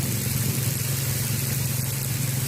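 A vehicle engine drones steadily at a low pitch while driving through deep flood water on a road, a continuous close rumble with a wash of water noise and no talking.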